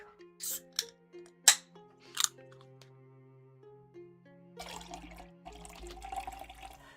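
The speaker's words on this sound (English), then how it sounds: "I need to refill my water very quick." Water from a tap runs steadily for a couple of seconds into a container in a visual novel game, a soft rushing flow that follows a few sharp clicks, set over quiet sustained background music.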